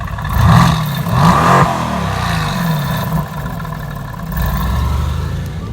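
A V8 sports car engine revs in rising and falling surges, loud and close, with a rough mechanical growl and no voices.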